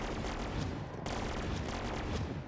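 A laser tower in the game Bloons TD 6, on a zombies map, fires in a dense, loud, rapid burst like crackling machine-gun fire, sustained and close with no pauses.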